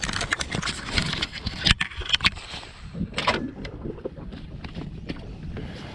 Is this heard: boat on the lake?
yes